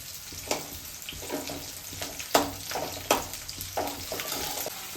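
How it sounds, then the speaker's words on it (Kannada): Onions and green chillies fry in a pan with a soft, steady sizzle and intermittent stirring scrapes and clinks, faint and close, with no talk. "ಈರುಳ್ಳಿ ಚೆನ್ನಾಗಿ ಫ್ರೈ ಆಗಬೇಕು."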